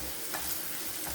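Onions frying in a pan with a piece of Kashmiri chili in a home kitchen, a steady soft sizzle with faint stirring scrapes, close and low in level, no voices.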